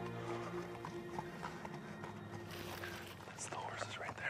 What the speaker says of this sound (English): That's the horses right there.